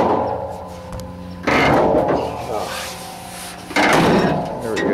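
Sticky hinge on a Chevrolet Nova fender being worked: two loud scraping, creaking rubs of metal grinding on metal, each sudden and then dragging on, up close beneath a low ongoing hum.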